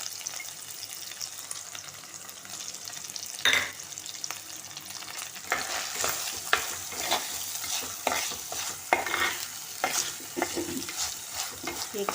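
Finely chopped onions, two of them, sizzle and fry in a pan while being stirred, with steady crackling and scraping stir strokes throughout and no talk.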